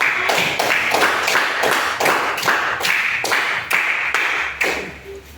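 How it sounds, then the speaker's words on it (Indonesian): A group of children clap for their classmates in a classroom, a run of roughly ten rhythmic bursts of applause, close and fairly loud, tapering off at the end. "anak-anak semua tepuk tangan untuk kelompok 3"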